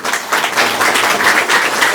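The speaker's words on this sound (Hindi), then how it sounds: "तो उनके लिए एक बार जोरदार तालियां।" A crowd at a Ramlila gathering breaks into loud, dense applause, many hands clapping close and steady for a couple of seconds with no talking over it.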